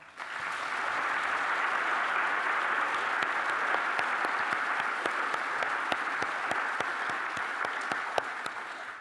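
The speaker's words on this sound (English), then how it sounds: "Please give another big applause for Christo." Sustained applause from an evening lecture audience honoring the artist Christo, a dense even roar of many hands held at moderate level throughout, with a few sharper individual claps poking through.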